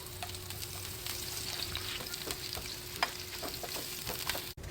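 Garlic and carrots sautéing in a pan for a Filipino tilapia breakfast, a steady close sizzle with scattered crackles and spatula scrapes throughout.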